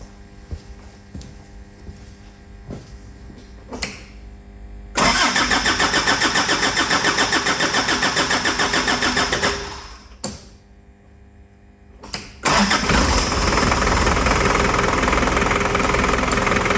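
A long-idle Daihatsu Fourtrak diesel engine cranks briefly, then catches and runs loud and steady, stalls with a short lull, and restarts into a strong, rough diesel idle close by.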